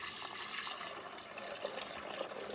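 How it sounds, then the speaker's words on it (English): Water pouring from a heavy 14-cup coffee pot into a coffee maker reservoir, a continuous faint splashing trickle that holds steady for a couple of seconds, close and alone without voices. "let's see how it pours"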